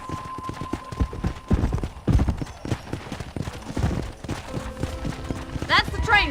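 A horse in the Red Dead Redemption video game walks with a steady clip-clop of hooves, close and fairly loud, under game dialogue and ambient noise, with a faint whinny near the end.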